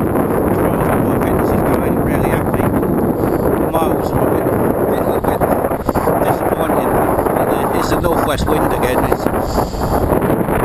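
Northwest wind buffets the microphone while cycling, a loud constant rushing roar that fills the whole stretch, with a voice faintly audible beneath it.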